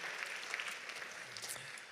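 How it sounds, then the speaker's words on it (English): Soft, distant clapping from a benefit gala audience at a museum, honouring donors, a steady even patter at low level with no voices. "let's give a generous round of applause for all of our generous"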